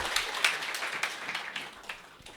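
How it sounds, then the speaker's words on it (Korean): An audience at a sales seminar applauds a hand model, a soft, faint patter of many hands clapping steadily and gradually easing off. "우리 모델에게 박수 한번 부탁드리겠습니다."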